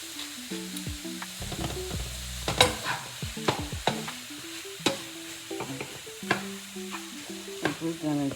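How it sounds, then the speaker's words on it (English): Plant-based meat seasoned with salt and pepper browns in a hot pan, sizzling steadily up close while a spatula stirs and scrapes the crumbles in an irregular rhythm of clacks and pushes. "I'm gonna brown this plant-based meat"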